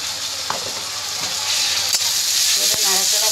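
Ground cumin powder frying in a pan and stirred with a utensil while cooking chana dal with coconut, giving a steady close sizzle with a few scraping clicks throughout.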